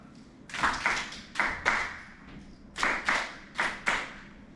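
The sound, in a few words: hands clapping a rhythm pattern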